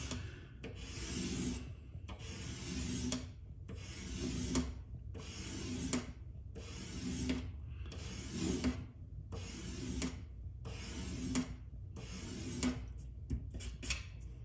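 A Mazda RX8 rotary engine side seal rubbed back and forth on sandpaper, giving a steady series of about ten rhythmic rasping strokes, close and fairly quiet, with no talking.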